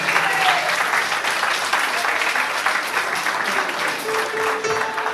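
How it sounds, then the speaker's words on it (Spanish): A crowd at an event gives sustained, loud applause, a dense continuous clatter of clapping hands that carries through the whole stretch. "Gracias, muchísimas gracias por ese aplauso"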